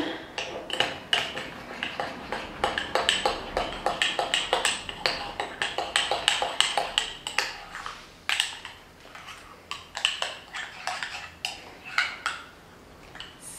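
A spoon clinks rapidly and repeatedly against a bowl while stirring a mix of used coffee grounds and lemon, close and fairly loud, in a busy uneven rhythm.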